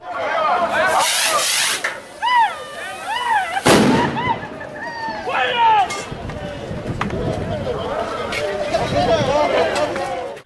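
Rocks and firework rockets fly between both sides during a clash at a state governor's residence, with sharp bangs, whistling rocket streaks and scattered impacts mixed into chaotic shouting and crowd noise.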